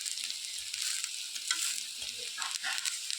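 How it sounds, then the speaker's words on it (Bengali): Lentil paste fritters, pakora style, fry in hot oil with a continuous bright bubbling sizzle, close and fairly quiet, and with no voices. "এই যে ভেজে নিচ্ছি পেঁয়াজু টাইপের, ডাল বাটা দিয়ে"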